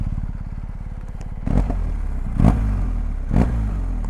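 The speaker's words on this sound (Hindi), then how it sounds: "ये है बॉक्सर इंजन का एग्जॉस्ट नोट" BMW R1250GS boxer twin idling with a fast, even exhaust pulse, close by outdoors in the mountains, punctuated by three sharp throttle blips that rise and fall back to idle.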